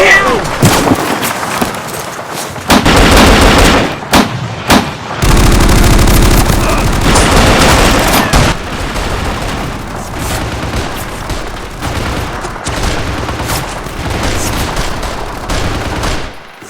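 Dense gunfire and booming blasts fill a stop-motion battle between toy army men, with loud rapid bursts and heavy impacts rolling almost continuously, while voices shout over the firing.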